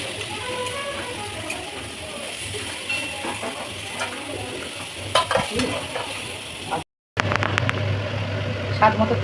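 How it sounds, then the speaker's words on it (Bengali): Potato and raw papaya with green chilli paste and spices stirred in a pan for a vegetarian mash, a steady frying hiss with scraping spoon strokes, a brief dropout near the end, then louder clatter. "দিয়ে নাড়াচাড়া করতে হবে।"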